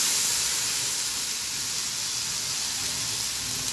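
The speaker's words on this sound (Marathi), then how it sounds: "आता मी हा डोसा याच्यावर तव्यावर परतून ठेवला आहे।" A sprouted moong dosa sizzling on a hot griddle gives a steady, even, broadband hiss, close and continuous with no voices.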